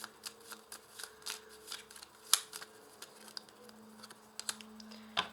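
Tarot cards are drawn and laid down in a quiet room, giving soft, scattered papery ticks and flicks, with a few sharper snaps spread unevenly across the stretch, under a faint steady hum.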